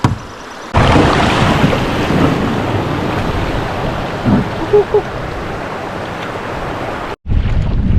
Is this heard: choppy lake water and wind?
yes